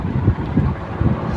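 Wind buffets the microphone on a moving motorbike, a brief, dense, low roar that rumbles unevenly with no voices over it.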